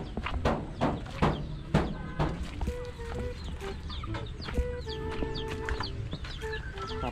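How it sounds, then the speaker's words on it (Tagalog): Chicks and chickens clucking close by, with irregular bursts of clucks and short peeping calls layered over one another through a busy, continuous stretch of farmyard fowl sound. "Mga sisiw yan guys."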